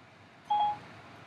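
A single short electronic phone tone sounds once at moderate loudness as an outgoing call is placed, then fades to a quiet line hiss.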